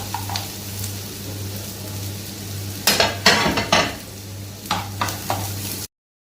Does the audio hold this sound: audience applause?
no